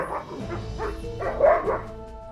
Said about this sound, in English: The dog started barking to get our attention.